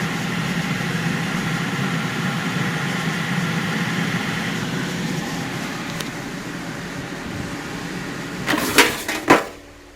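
A faulty Bella air fryer with no heat, its heating element not warming, hums steadily as its fan blows out cool air, a constant close drone that fades near the end, followed by a couple of sharp clicks.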